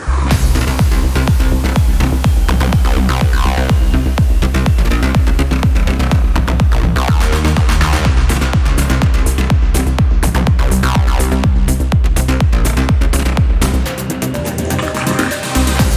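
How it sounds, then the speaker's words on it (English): A melodic techno track plays loud and dense, with a steady pounding kick, driving bass and layered synths that thin out briefly near the end. "how to make some melodic techno like this"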